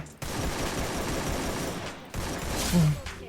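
Gunfire in the video game Free Fire, with dense bursts of rapid automatic shots that stop briefly and then resume, loud and close, with faint in-game background behind them.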